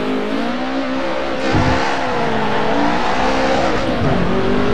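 A BMW M3 E30 Group A race car at Mugello in the Assetto Corsa racing game, engine droning loud and steady with rising and falling revs, brief gear-shift dips and faint tire noise, no talk.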